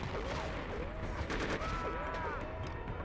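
Gunfire from the video game Conflict: Desert Storm 2, a Gulf War shooter, with bursts of shots crackling over a dense, steady game soundscape and rising and falling tones threaded through the mix.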